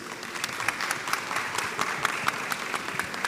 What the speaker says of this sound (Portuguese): eu queria uma salva de palmas para eles